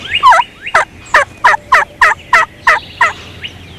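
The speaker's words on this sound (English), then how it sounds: "many of today's callers can reproduce turkey sounds better than the turkeys themselves." Wild turkey calling in a steady series of about nine loud, evenly spaced yelping notes, close and clear, with no talking.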